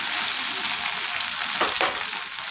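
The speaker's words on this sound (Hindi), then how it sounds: "अदरक लहसुन की पेस्ट को बढ़िया फ्राई कर लेंगे।" Ginger garlic paste frying in a pan for an aloo gobhi matar dish, a constant hissing sizzle with two quick stirring scrapes near the end, close and without speech.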